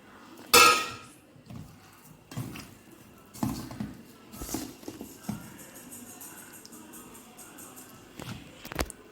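Boneless chicken being mixed by hand with cumin, coriander, fennel, garam masala and chicken masala powders in a metal bowl, giving scattered clinks, scrapes and knocks of utensils against the vessel, close and irregular with no talking.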